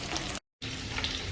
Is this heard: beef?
yes